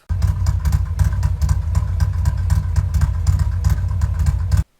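A Harley-Davidson M8 motorcycle engine idles close by with a deep, uneven, loping rumble, steady throughout and then cutting off abruptly at the end.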